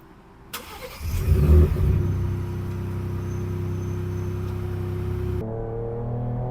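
2025 Ford Ranger Raptor V6 pickup pulling hard in Malaysia, the engine surging up in a loud rising roar with strong mid-range, then holding a sustained high-rev drone before the pitch drops near the end, heard from inside the cabin.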